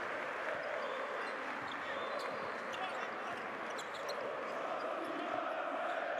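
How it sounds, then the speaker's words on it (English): Partizan basketball fans roar steadily through an arena during a Basketball Champions League game against Besiktas, a dense, loud and continuous crowd din with faint whistles and shouts on top and a commentator talking over it. "This crowd is just trying to lift this team."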